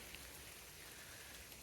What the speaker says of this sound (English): it is absolutely hammering it down. It's like driving rain.